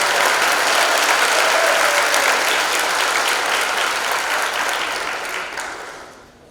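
A high school senior awards night audience applauds loudly and steadily, the dense clapping gradually thinning and fading out toward the end.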